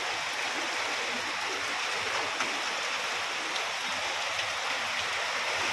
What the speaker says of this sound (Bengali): অনর্গল বৃষ্টি হয়েই চলেছে,